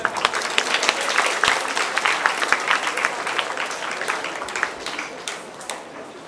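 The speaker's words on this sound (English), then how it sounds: "They deserve their loud applause." Loud audience applause at a Diwali festival award ceremony as certificate winners come up on stage, dense clapping that starts strong and gradually tapers off.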